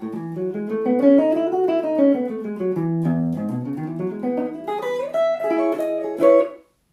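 A clean electric guitar plays a short sliding melodic phrase, dry and unprocessed, then stops abruptly.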